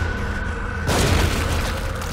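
A gunshot in The Evil Within during a horror game fight: a single sharp, loud blast after a quiet moment, followed by a brief decaying tail.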